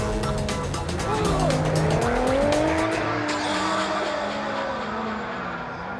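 A car drifting at a driving practice session, with loud sustained tire squeal over a roaring engine that rises and falls, close and continuous throughout.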